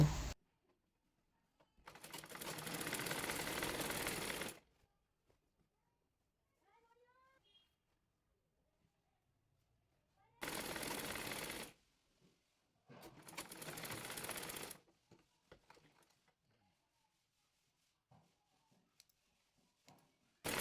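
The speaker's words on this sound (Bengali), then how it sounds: "সালোয়ারটির মধ্যে রাবারটি রেখে টেনে টেনে সেলাই করে এ নেব" A sewing machine stitches elastic into a salwar in three separate bursts of steady whirring, the first and last about two seconds each and one shorter, separated by near-silence with faint handling clicks.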